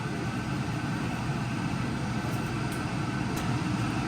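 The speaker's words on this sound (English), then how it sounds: "Sorry for the fan, it's getting the stuff in the oven," A kitchen fan runs while food cooks in the oven, a steady, loud broadband whoosh that stays unchanged throughout.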